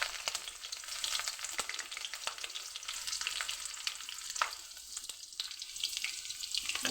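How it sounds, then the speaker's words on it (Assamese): Garlic, mustard seeds and green chillies fry in hot oil, giving a close, steady crackling sizzle dotted with sharp pops and spits, with no voices. "নহৰুটো ফুটি যেনিবা সৰিয়হও ফুটে অলপ ৰংচুৱা হৈ গৈছে"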